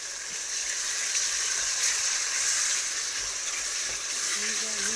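Ginger dropped into a hot pan for pasta al ragù, a steady, close sizzle and frying hiss holding at an even loudness throughout.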